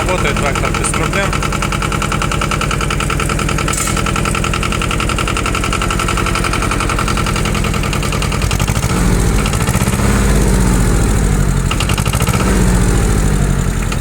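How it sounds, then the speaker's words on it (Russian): Two-cylinder rear-wheel-drive utility tractor engine idling smoothly and steadily, an even low-pitched thump running throughout, with someone talking over it from about halfway. "Работает трактор без проблем."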